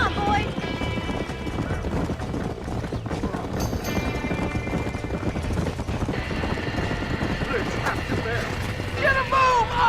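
Galloping horse hooves in the Red Dead Redemption video game, a steady clip-clop running through dense game noise with urgent voices and a burning-barn commotion around it.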